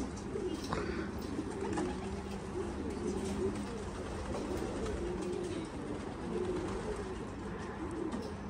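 Pigeons coo steadily in an aviary housing houbara bustards and pigeons, a continuous low murmur of overlapping calls with faint rustling throughout.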